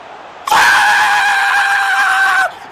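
A single shrill, high-pitched human scream in a streaming setup, loud and close, held steadily for about two seconds before cutting off abruptly.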